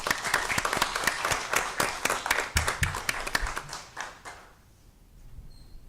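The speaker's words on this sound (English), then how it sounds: "Let's go ahead and give them a round of applause." Students are applauded at a school district governing board meeting. The claps are sparse and distinct, tapering off and ending about four and a half seconds in, leaving quiet room tone.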